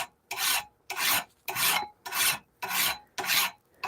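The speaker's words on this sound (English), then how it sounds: "what a sharp file can do. It can eat through steel pretty quickly." Steady back-and-forth rasping of a hand file on the steel of a hand-forged Bowie knife, six even strokes with short pauses between, close and clear with no talking.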